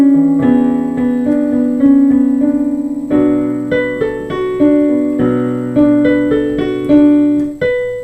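Piano playing a song, slow repeated chords with a held melody line, notes struck and left to ring and decay, clear and close with no talk.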